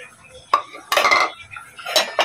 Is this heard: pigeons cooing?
no